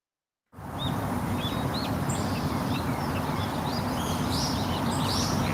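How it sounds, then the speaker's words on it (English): Short bird chirps and tweets repeat over a steady, loud outdoor ambience with a constant low rumble. "now there's like two bird sound effects instead of one"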